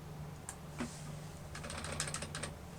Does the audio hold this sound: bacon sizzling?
no